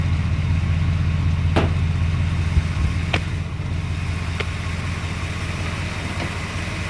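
A 1978 Jeep Cherokee engine with a newly installed fuel pump and carburetor idles steadily nearby, a loud, even low rumble with a few faint clicks over it and no talking.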